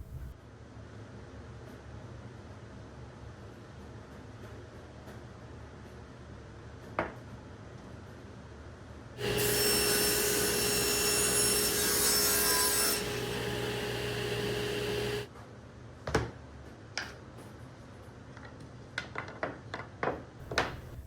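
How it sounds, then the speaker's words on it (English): A power saw rips plywood into strips for a spice rack, one loud continuous cut of about six seconds that stands out from quiet shop noise and scattered knocks of wood being handled. "I now have to cut strips out of this for the height of the spice bottle"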